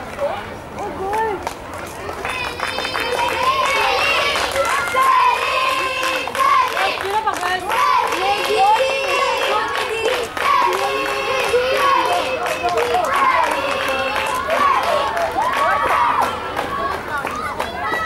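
Spectators shout and cheer at a school 800m final at an inter-school athletic meet in Dubai, a loud, sustained crowd roar with children's voices and clapping, swelling and holding, with an announcer talking over it.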